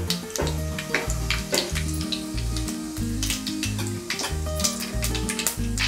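Mustard seeds and cumin sizzle and crackle steadily in hot oil in a home kitchen, a close, continuous frying hiss under soft background music.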